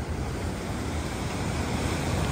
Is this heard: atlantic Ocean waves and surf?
yes